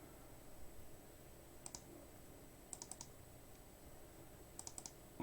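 Computer mouse clicks during software installation on a desktop, sounding as short, quiet clicks in small clusters of two or three, spaced a second or so apart over a faint steady hum.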